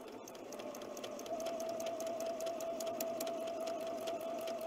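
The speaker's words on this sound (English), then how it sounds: "I'm just simply doing an edge stitch, free motion edge stitch." Sewing machine running steadily while free-motion edge stitching teal thread around small appliqué leaves on a quilt, a continuous fast whirring hum with a faint rattle, close and uninterrupted with no talking.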